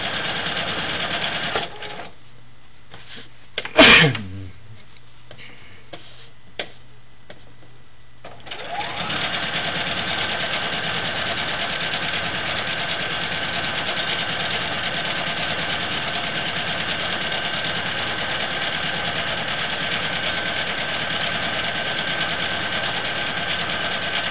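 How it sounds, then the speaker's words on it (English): A sewing machine stitches in the ditch on a tied quilt, its steady motor whir running loud and continuous for most of the stretch after a short start-stop burst and a quiet pause. "I'll start sewing again"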